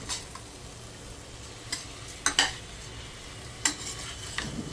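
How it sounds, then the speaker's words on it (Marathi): A spoon stirs rice and masala in a pan for Khandesh-style khichdi. Soft sizzling runs underneath, broken by a few sharp scrapes and clinks against the pan. No voices. "आणि तांदूळही व्यवस्थित मी एकजीव करून घ्यायचे आहे."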